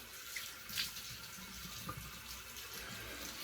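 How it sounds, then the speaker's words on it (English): Hot tap water runs steadily into a bathroom sink for a face rinse after a shave, a continuous close hiss with small splashes from hands in the stream. "I do the double hot water rinse."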